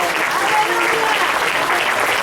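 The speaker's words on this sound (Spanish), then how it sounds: "Denle un aplauso al Señor." A church congregation applauds together in a dense, steady burst of clapping that holds at an even level throughout.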